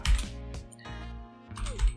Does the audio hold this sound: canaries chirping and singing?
no